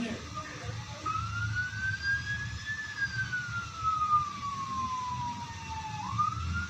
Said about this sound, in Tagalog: Ambulansya pala yan.